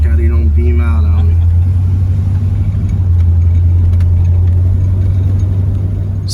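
A 1977 Corvette engine idles low and steady, a loud continuous rumble throughout with speech over it at the start.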